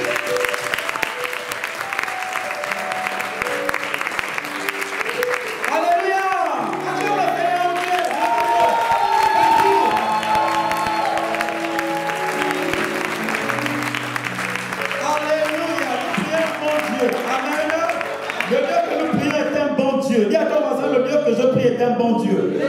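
A church congregation claps and cheers in acclaim, with loud sustained applause, whoops and crowd voices filling a large room, and music playing underneath throughout.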